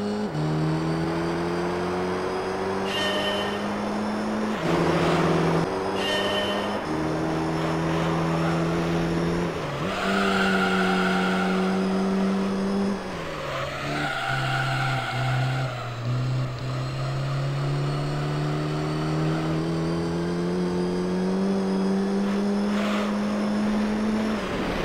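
A race car in Gran Turismo Concept on the Tahiti Maze II dirt course, its engine droning loud and steady, rising through gears and dipping on shifts, with tires squealing and skidding through the turns.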